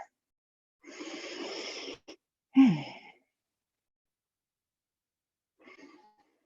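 Heavy asthmatic breathing from a person leading a yoga class: a long, rough exhale, a short gasp, then a sharp wheezy intake, and later a faint quiet breath.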